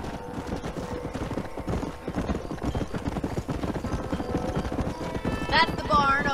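Hooves of a galloping horse in Red Dead Redemption clatter in a steady, rapid rhythm over game music, close and fairly loud, with a brief whinny near the end.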